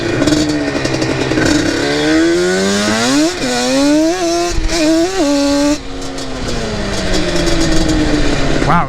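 Yamaha Banshee two-stroke ATV fitted with CPI exhausts revs loud and close, its pitch climbing and dipping through several blips before settling into a steady high drone, with no voices.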